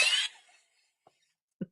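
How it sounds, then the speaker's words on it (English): A single person coughs once, a short harsh burst at the start that fades out, followed by a couple of faint soft clicks or breaths in otherwise near silence. "I was just in the mid cough here"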